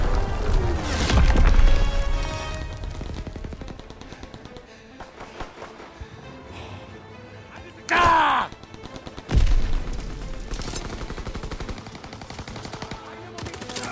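Artillery fires in a war video game, with heavy blasts and rolling gunfire bursts that swell loud early, then a sharp loud report near the middle and another after it, over constant battle noise.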